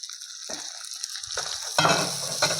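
Finely chopped onions hit a hot pan alongside ginger and green chillies, bursting into a close, steady sizzle that swells louder in surges as they are stirred, with no voices over it.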